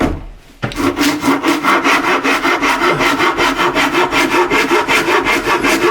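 A rough rasp files a Telecaster guitar body kit while a forearm or belly cut is shaped, giving rapid, even back-and-forth scraping strokes that are loud and close, alone after a brief quiet start.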